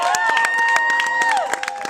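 An audience claps and cheers after a lot is sold at an auction, with a dense patter of close hand claps under a sustained whistle-like tone and crowd voices.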